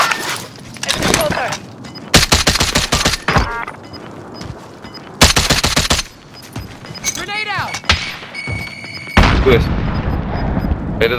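Gunfire in Call of Duty: Modern Warfare: several bursts of sharp, loud shots in quick clusters, broken by quieter stretches and other game effects, with voices talking in between.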